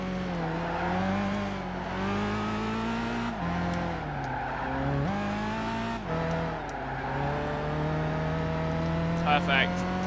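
A Ford GT race car engine roars in Gran Turismo 5, holding a loud steady note that rises through the gears, with brief shift dips and a short tire squeal near the end.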